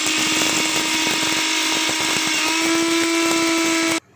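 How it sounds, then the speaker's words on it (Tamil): Kitchen mixer grinder whirs steadily at high speed, grinding cumin and fennel seeds for a pepper chicken masala, loud and continuous for about four seconds before stopping abruptly, with no talk. "ஜீரகம் போடுங்க, பெருஞ்சீரகம் நம்ம இதெல்லாம் போட்டு மிக்சியில் அரைச்சிக்கலாம்."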